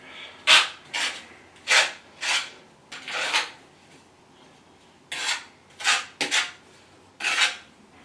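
Thinset mortar is spread onto subway tiles for a bathtub surround, heard as short close scraping rasps of a trowel in uneven strokes with brief pauses and no talking.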